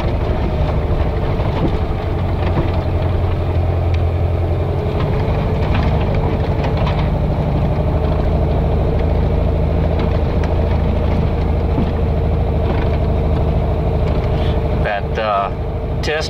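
A 1969 Baja vehicle engine runs steadily at about 1500 RPM, a loud, constant low drone under a voice talking, with a few brief knocks and rattles near the end.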